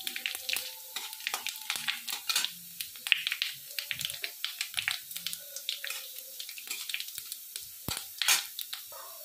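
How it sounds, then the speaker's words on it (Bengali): Dry red chillies, bay leaf and whole cumin seeds sizzle in hot oil, with crackling pops and bursts coming in quick irregular clusters, close up with no talking. "আমি শুকনো লঙ্কা, তেজপাতা, গোটা জিরে দিয়ে দিলাম। ভালো করে আমি এগুলো একটু ভেজে নেব।"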